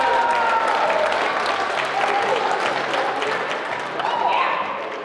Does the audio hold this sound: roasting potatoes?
no